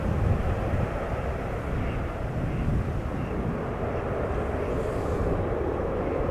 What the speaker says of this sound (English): Probably some of the loudest departures that we can experience. Old school A330s.